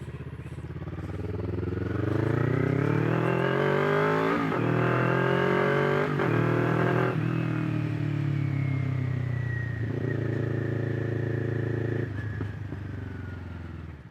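A 2021 Kawasaki Ninja 400 motorcycle accelerates through the gears, its engine note rising in pitch with brief dips at each shift, then settling into a steady cruising drone and easing off, loud and close with no talk.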